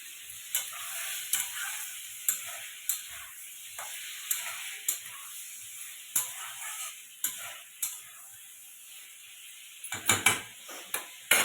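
Water hitting a hot frying pan, a steady sizzle with sharp clinks and scrapes of stirring repeating about once a second, close and alone without talk.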